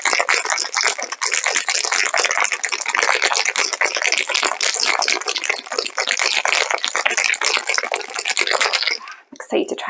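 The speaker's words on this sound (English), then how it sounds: "I've made probably far too much for the glass that I'm going to pour it into." Pear mocktail poured into a decorated glass, a continuous bright splashing stream with trickling texture that runs nearly ten seconds before stopping abruptly, followed by a few drips.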